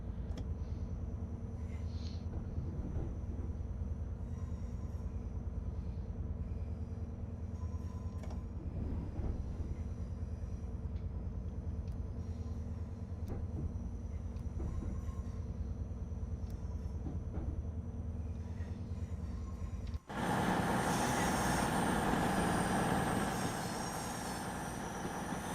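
In Train Sim World 6, a train runs through Crewe station without stopping, with a steady low rumble of wheels and motors for a long stretch, then suddenly a louder, brighter rushing roar.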